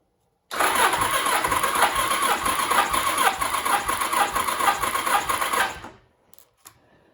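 A 1989 Kawasaki Ninja ZX7 engine cranks on the starter for a compression test with the throttle open, a steady rapid churning whir for about five seconds that then stops abruptly.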